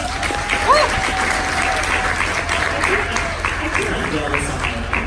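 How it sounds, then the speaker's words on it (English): Audience applause fills an event hall during a Full Sail Hall of Fame gathering, a steady dense clapping that carries on for several seconds, with voices and cheers mixed in underneath. "Give him a round of applause."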